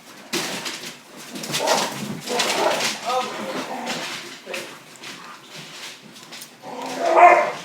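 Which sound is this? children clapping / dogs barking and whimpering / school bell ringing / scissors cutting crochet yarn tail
dogs barking and whimpering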